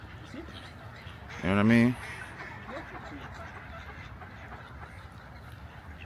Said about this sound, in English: Let me get a close up of these ducks.